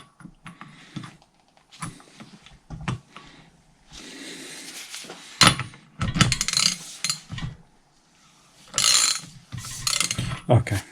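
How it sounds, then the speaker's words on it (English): A ratchet with a 22 socket works on a cylinder head bolt of a Mitsubishi L200 4D56 engine, giving bursts of quick clicking ratchet strokes separated by pauses and faint handling noises, close by. "So we'll try with a socket, but we need to be careful."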